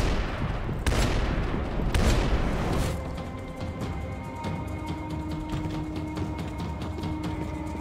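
Automatic rifle fire in the Max Payne 3 video game, with a few heavy booming shots early on followed by a steadier stretch of rapid, clattering bursts, loud and close.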